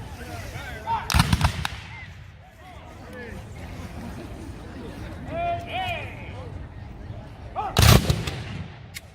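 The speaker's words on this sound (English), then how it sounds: "Excellent volley by the Confederates." At a Civil War reenactment, Confederate musket volleys crash out twice, loud ragged bursts near 1 and 8 seconds with echoes trailing off, while a crowd murmurs and someone talks throughout.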